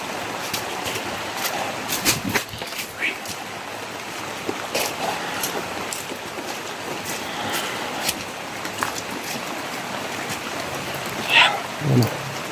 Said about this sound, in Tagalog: umukulo yung tubig.